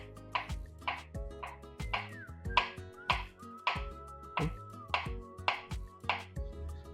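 A knife slices a banana against a cutting board, about ten sharp, evenly spaced strokes, close and clear with no talking.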